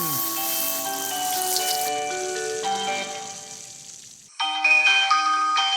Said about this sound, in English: that jingle for the ice cream truck